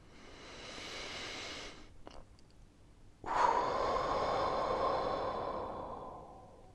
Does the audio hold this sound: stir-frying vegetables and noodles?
no